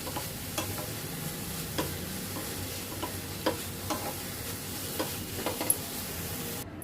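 Moringa leaves being dry-roasted and stirred continuously in a kadhai: a faint, steady rustling sizzle with intermittent light scraping clicks of the spoon against the pan, close and quiet, no speech.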